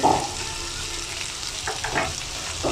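Chopped onion, sliced into round pieces, drops into a hot pan and sizzles steadily, with a louder hiss at the start and brief stirring noises, close and without talking.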